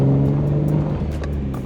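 A Lexus IS300 engine drops in pitch as the driver shifts gears. The loud, close hum sags and settles, with faint clicks from inside the cabin.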